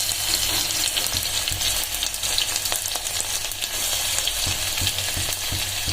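Garlic paste and cumin seeds fry in hot oil, a steady loud sizzle and crackle running throughout with occasional spoon scrapes, no voices.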